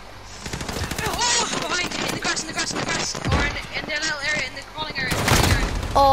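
Loud automatic gunfire in the Call of Duty Modern Warfare multiplayer shooter, rattling in repeated bursts close up, with players talking over the shots.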